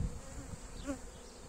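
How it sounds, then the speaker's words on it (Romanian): A steady buzz of honeybees hums close by at an apiary frame, with one bee droning briefly louder as it passes. "Deci vedem că este mult albină."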